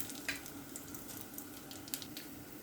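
Mustard seeds, urad dal, cumin and fenugreek frying in hot oil for a taro root kara kuzhambu, a faint steady sizzle with a few small pops and crackles, close and without talk.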